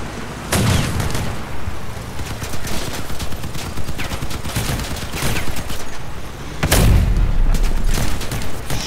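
Loud cannon blasts and rapid gunfire from the vehicle combat game Crossout, with two big booming impacts amid dense, continuous machine-gun fire.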